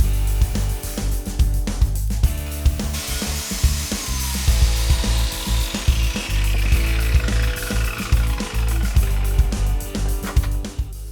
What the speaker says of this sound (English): This is where I've marked for the biscuit cutter to cut, and then this is the hole it's created.